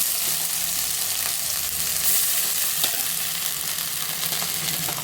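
Continuous hissing sizzle of black urad dal chutney frying in hot oil with a mustard seed tempering, close up, with faint stirring scrapes and no talking.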